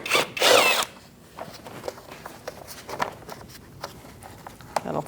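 A power tool whirs briefly up close as it removes a 10mm fastener beneath a 2008-2014 Mercedes-Benz C300, followed by quieter scattered taps and handling noises.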